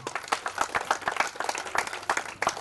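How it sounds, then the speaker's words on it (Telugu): A church congregation claps in fast, steady rhythm, a dense burst of many hands close by, with no talking over it. "చప్పట్లు కొట్టి ప్రభుని కనపడదాం"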